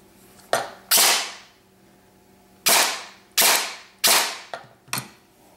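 A Lonex Titan A2 airsoft gun on semi-auto fires single sharp cracking shots, about six spread irregularly over a few seconds, each clear and close.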